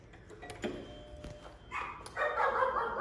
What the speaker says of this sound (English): You hear her barking.